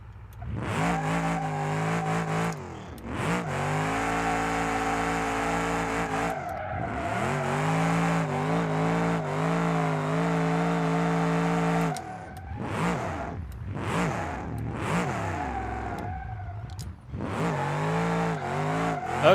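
A muscle truck does burnouts in BeamNG.drive, its engine revving hard in long sustained pulls broken by short drops and gear changes, with screeching tires throughout.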